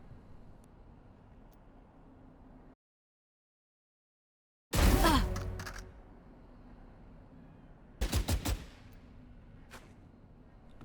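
Gunshots fired down through a wooden plank in a tactical shooter game on the Ascent map: after a quiet hum and a brief silence, one loud shot with a ringing tail, then a quick burst of four close shots.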